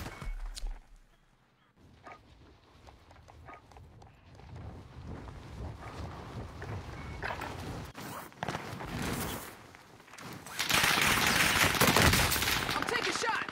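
Gunfire rattles in a squad-based video game, dense and sustained with a low rumble underneath, growing louder and peaking near the end.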